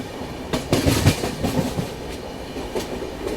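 The Alappuzha Dhanbad Express passenger train rolls along the rails, a steady rumble with rhythmic clickety-clack wheel beats over joints, heard from inside the train.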